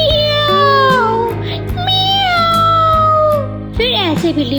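A cartoon cat meows in several drawn-out, wavering cries, loud and close. A performer's voice imitates the cat.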